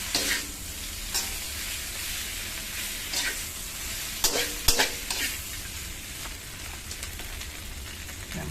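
Shiitake mushrooms stir-fry with soy sauce and sesame oil in a hot pan, making a constant close sizzle broken by sharp scraping clacks of the spatula at irregular moments.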